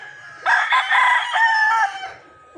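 A tornado hatch gamefowl rooster crows once, a loud, close, drawn-out call lasting about two seconds that wavers in pitch before trailing off.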